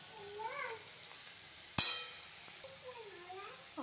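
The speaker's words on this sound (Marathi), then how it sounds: "हिरवी मिरची यामध्ये असा परतून घ्यायचा आहे। हा बटाटा आपला असा छान अगदी" Potato and green chillies are sautéed in a pan for sabudana khichdi, a soft continuous sizzle with a sharp clink of a utensil midway, while someone talks over it.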